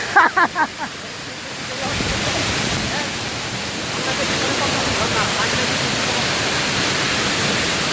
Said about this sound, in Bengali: পাথর ঝর্ণার সঙ্গে পাথর পড়ছে